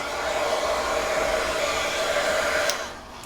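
A hair dryer blows steadily and loudly on alcohol ink on a handmade beach-themed card, a continuous whirring rush that holds even for about three seconds before cutting off near the end, with no talk.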